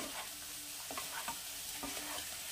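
Spice masala stirred with fried duck eggs in a pan, a quiet low sizzle broken by a few soft scrapes of a spoon, close but faint, no voices.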